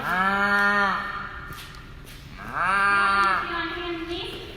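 A person imitates a cow mooing during an at-home wrestling workout break, giving two drawn-out, nasal moos, each about a second long, with a short pause between them and a trailing tail after the second.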